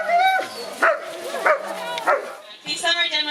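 Sled dogs at Denali bark, yip and whine close by in eager, overlapping bursts while waiting at a summer team demonstration.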